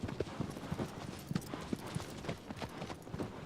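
Horse hooves clip-clop at a steady trotting rhythm in the video game Shadow of the Colossus, quiet and continuous over a soft wash of ambient noise.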